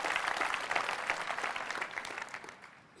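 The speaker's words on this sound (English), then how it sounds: "I would like to have a round of applause for all of you" Conference audience applauding at a Mac OS X developer event, a dense steady patter of many hands clapping that fades slightly toward the end, with no talk over it.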